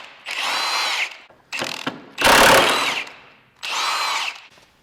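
Power tool tightening bolts during a Honda CR-V lift kit install, three close bursts of ratcheting buzz separated by brief pauses and clicks.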